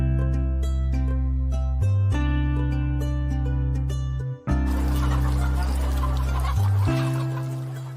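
Chickens cluck in an open-house poultry coop holding around 16,000 birds, a dense, continuous flock chorus with overlapping calls, close and fairly loud.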